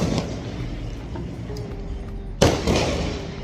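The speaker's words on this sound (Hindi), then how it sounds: "You can here the crackers." Firecrackers burst during Diwali festivities, with one sharp, loud bang and a few fainter distant pops over a steady outdoor background murmur.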